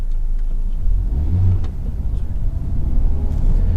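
A learner car in a UK driving test pulls away, its engine note a steady low rumble with mild revving that holds throughout, close and continuous with no talk over it.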